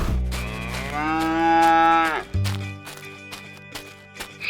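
A cow lets out one long, loud, sustained moo that swells and then breaks off, followed by a short low grunt and faint clatter.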